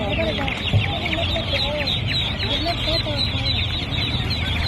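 Chickens and chicks at a poultry market cluck and peep continuously, a dense, loud chorus of many birds close by with faint voices mixed in.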